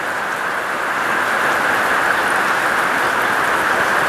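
Steady rain pours down outdoors as a dense, even hiss of falling drops, loud and continuous with no pauses, and no voices over it.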